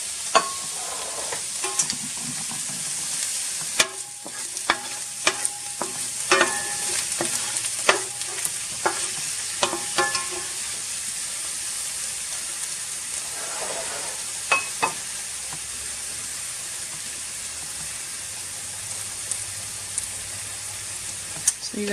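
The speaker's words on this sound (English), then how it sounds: "So I'm going to start with the onions first, and again, this is half of a medium onion, and I finely chopped it." Half a medium onion, finely chopped, sautés in a pan with a steady hiss and crackle, while a utensil stirs with sharp scraping clicks through the first ten seconds before the sizzle settles alone.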